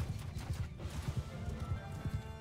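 Cavalry horses galloping in the Mount and Blade II Bannerlord siege battle, a rapid, rolling drumming of many hooves at a steady beat, moderately loud over a dull battlefield rumble.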